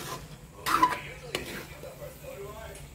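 Pancit noodles are tossed and mixed in a home cooking pan. A utensil scrapes and clinks against the metal in a brief burst and then a single knock, with a voice speaking quietly around the sounds.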